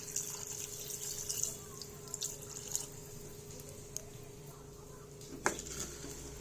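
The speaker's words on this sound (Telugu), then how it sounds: "ఇప్పుడు వాటర్ వేసుకుంటున్నాను" Water trickles and drips quietly into a clay pot of chicken curry, with soft splashes and a few louder clinks near the end.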